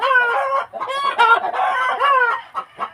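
Chickens cluck and squawk loudly and close by, a busy run of overlapping calls with a few short clucks at the end.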